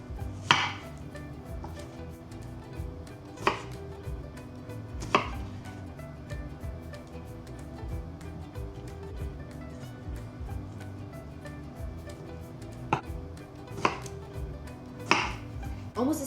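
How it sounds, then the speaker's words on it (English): A knife cuts juicy tomatoes on a board in a home kitchen, with sharp chopping taps spaced irregularly and clearly audible against a low background hum. "let's go ahead and cut our tomatoes"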